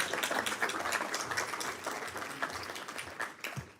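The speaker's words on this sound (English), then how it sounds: "our friend deserves a round of applause" A room at a committee hearing breaks into a round of applause, a fairly soft but even wash of many hands clapping that holds steady throughout.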